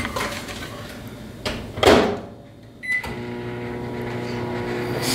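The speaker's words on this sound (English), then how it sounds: "put this in the microwave and then press popcorn" Microwave oven running on its popcorn setting in a home kitchen, with a steady hum, a clunk and door or latch sounds midway, then the continuous drone resuming with faint tonal whine.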